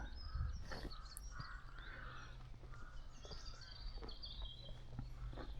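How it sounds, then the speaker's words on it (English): Crows caw repeatedly in a foggy churchyard at All Saints Church in Iden, Sussex, harsh calls scattered at mid-distance over a quiet outdoor background with occasional footsteps. "you can hear the crows kicking off."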